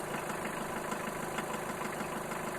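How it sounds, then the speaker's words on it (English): A steady, droning internal combustion engine idle with a low rumble and faint knocking vibration, constant and close, no voices. "So this is an internal combustion engine sound."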